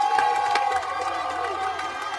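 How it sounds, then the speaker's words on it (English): Bishop Miege fans cheering and shouting at a 2012 Kansas 5A boys state soccer championship in Topeka, a sustained crowd roar through the final seconds of the match, steady and fairly loud with a whistle-like tone near the start. "the Miege crowd that has come here in full force, celebrating the final seconds of a state championship victory here in Topeka"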